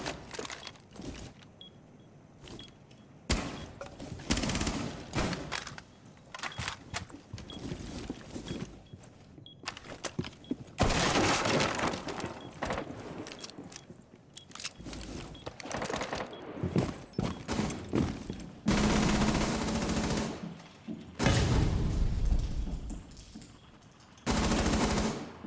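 Gunfire in the video game Rainbow Six Siege on console, long loud bursts of automatic fire in repeated volleys with brief gaps and footsteps between them, and no talk.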